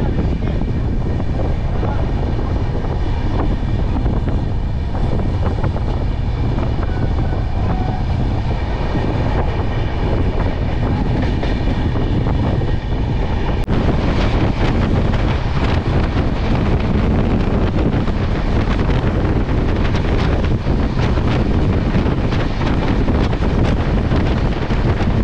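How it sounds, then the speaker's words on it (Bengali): Kulik Express train pulling out of Sainthia Junction, heard from on board as a loud continuous rumble and rush of wheels and wind that intensifies partway through. "11:34 সাঁইথিয়া জংশন থেকে আমাদের ট্রেন ছেড়ে দিল।"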